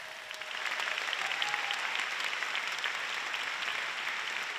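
A large audience at a televised awards gala applauds a singer with steady, dense clapping. The applause swells after a brief moment and holds throughout, with no voices on top.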